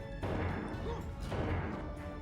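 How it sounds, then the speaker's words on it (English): Red crates get struck in the video game Treasure Planet, a couple of heavy thwacking impacts over a dense, noisy game backdrop. "Smash the red crates."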